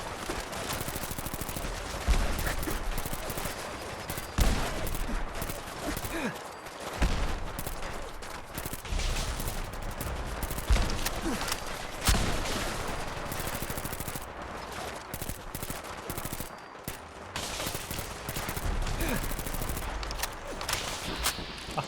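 Fallout 4 video game gunfire: a continuous barrage of sharp, loud shots, heavy and rapid like automatic fire, running throughout with only a few brief gaps.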